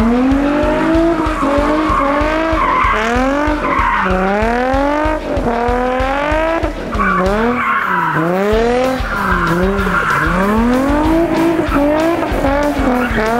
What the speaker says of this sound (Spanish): vamos a ir al César, cómo va a probar el drift